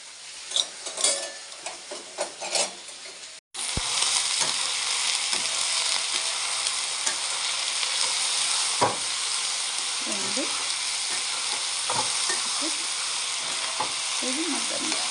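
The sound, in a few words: vegetables frying in hot oil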